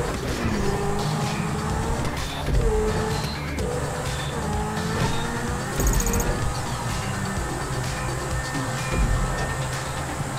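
Game car engine from GTA 5 revving and droning steadily through a cornering run, with engine pitch rising and falling over a constant in-game soundtrack and effects bed; no clear skid squeal stands out.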